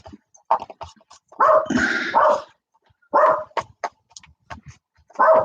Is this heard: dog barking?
yes